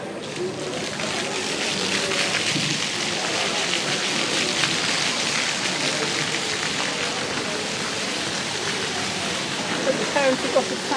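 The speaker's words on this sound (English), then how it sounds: "the fountains for the children to play in" Water fountains splash continuously in a harbour plaza at Puerto Portals, Mallorca, a dense steady hiss of falling water with faint voices and activity around it.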